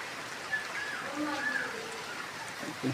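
Heavy monsoon rain in Bangladesh falls as a faint, steady hiss that never lets up, with a few soft drips and patters.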